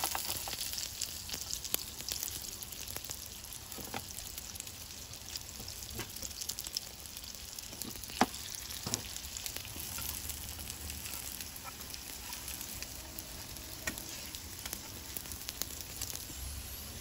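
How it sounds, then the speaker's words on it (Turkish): Crepe börek frying in a pan, a steady close sizzle with scattered pops and crackles running throughout, with no talk over it. "krep böreklerimizin alt tarafları da kızardı"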